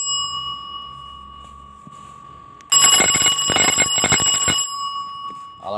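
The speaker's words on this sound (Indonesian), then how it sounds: "Alarm ini sangat multifungsi ya, bisa digunakan sebagai alarm tanda bahaya" After a quiet hum, a wireless electric round alarm bell suddenly rings loudly with a rapid metallic clatter for about two seconds, then stops.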